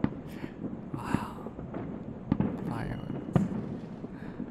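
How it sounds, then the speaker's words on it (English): New Year's fireworks pop and crackle in several sharp bursts under a soft, close voice, with a steady murmur of background noise between the blasts. "Fireworks."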